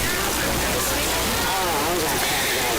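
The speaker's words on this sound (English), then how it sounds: "Continues to rain out here ever so slightly." Light rain falling steadily at an outdoor softball game, a soft broadband patter and hiss filling the whole moment, fairly loud and unbroken.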